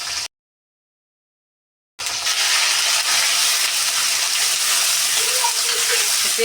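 Onion paste fries in a pan of oil after potatoes have been browned, giving a steady, even sizzling hiss that starts abruptly after a short silence and holds on.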